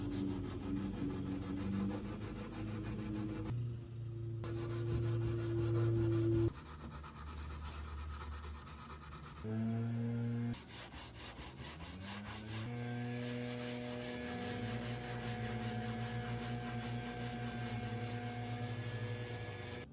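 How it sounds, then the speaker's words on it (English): Power sanding a worn wooden Art Deco vanity with 80 grit sandpaper, a continuous droning hum with a gritty scrubbing texture, pitch shifting as pressure changes, with brief pauses and no talking. "Now I'm going to start the sanding process on the whole thing. I'm going to start with 80."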